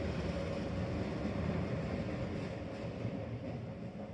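A train on the Ishiyama Sakamoto Line beside Lake Biwa rolling round a bend, a steady, fairly loud low rumble that holds evenly throughout with no voices.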